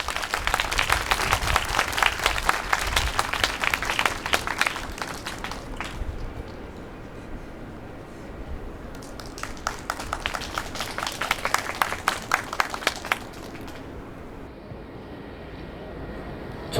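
An audience applauds at a memorial night held at Yonsei University for Lee Han-yeol. Dense clapping fills the first six seconds, quiets to a lull, then swells again in a second wave before fading.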